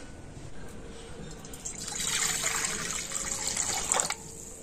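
Water pours into a wok in the kitchen, starting as a soft trickle and swelling into a steady splashing fill for about two seconds before stopping abruptly, close and moderately loud.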